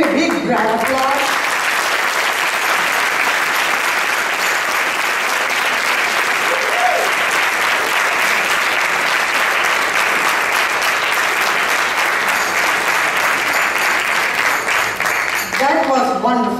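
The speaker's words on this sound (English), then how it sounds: "Can you give a big round of applause?" An audience breaks into loud, sustained applause after a presentation, dense clapping that holds steady for over fifteen seconds, with a speaker's voice briefly at the start and end.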